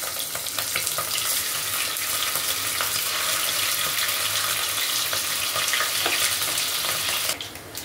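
Mutton fat sizzling and frying in a pan with whole garam masala spices, green and black cardamom, a loud continuous crackling hiss with occasional stirring scrapes, cutting off abruptly near the end.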